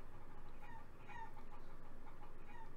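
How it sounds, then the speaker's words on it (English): A giant chicken in a video game clucks in a steady, pulsing stream of soft repeated clucks over a low background hum, faint and without talk. "Ah, there's a giant chicken."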